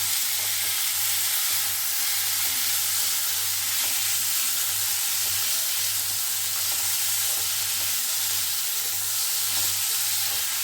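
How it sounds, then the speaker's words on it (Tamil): Steady, continuous sizzling of chopped vegetables including finely cut beans sautéing in a pan, a dense crackling hiss that stays even throughout with no talking. "இது மூணையும் போட்டு கொஞ்சம் நல்லா வதங்கினது"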